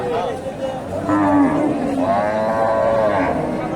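A small native cow lows at a busy village cattle market in Bogura, its drawn-out moo rising twice over crowd chatter and people talking nearby.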